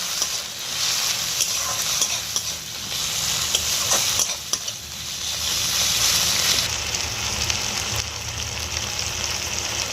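Thinly sliced tomatoes with salt being stirred in a hot frying pan, a steady loud sizzle with scraping stirs throughout, no talk.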